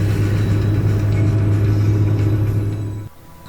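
Mazda Miata engine with a disintegrating crankshaft, running at a steady, rough, loud drone with heavy low rumble that drops off sharply near the end.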